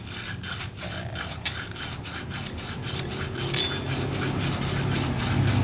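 Sandpaper rubbed back and forth across a Honda Beat vacuum carburetor part, making a steady, rhythmic rasping scrape with regular strokes, close and fairly loud with no talking.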